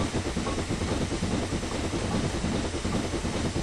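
Two locomotives in Train Simulator 2012 rumble steadily with a continuous rolling roar and rhythmic clatter of wheels over track, loud and dense throughout with no talk.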